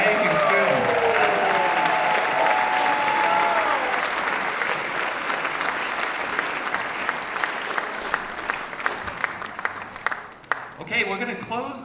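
Concert audience claps for student performers at a holiday season school concert, a broad steady wash of applause that starts under a speaking voice, thins out toward the end and gives way to talk.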